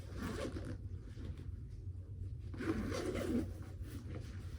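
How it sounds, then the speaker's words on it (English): A zipper rasps open in two short, soft pulls close by, over a low steady background hum. "on the interior, if I can find the zipper"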